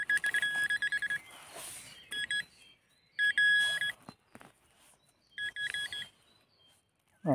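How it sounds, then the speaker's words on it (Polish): A metal detector sounds its signal in a metal-detecting search, giving loud, bright electronic beeps in short repeated bursts separated by pauses, with no talking. "Mamy kolejny sygnał."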